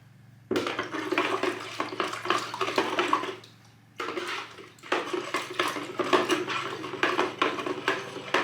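Salt brine pours into a jar of dill pickles in bursts, splashing and gurgling close by with a clink of glass, broken by a short pause before pouring resumes.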